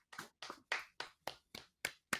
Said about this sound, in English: Can we just all stand and applaud Frank Lampard?